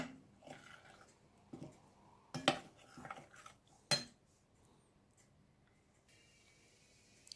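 A spoon scrapes and clinks against a bowl, mixing an apple mixture into a cheese mass in a few irregular strokes, with sharp metallic taps, then quiet.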